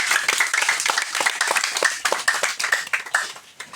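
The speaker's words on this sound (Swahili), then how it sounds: "Pigie Yesu makofi" A church congregation claps during worship, a run of brisk, fairly regular handclaps that stay loud and close before thinning out toward the end.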